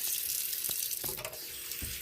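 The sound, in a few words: water running from tap, adding water to cornstarch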